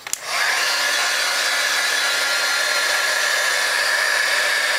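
Heat embossing tool blowing hot air onto glitter on a snowflake ornament, a steady loud whir starting after a brief click and running unbroken to the end.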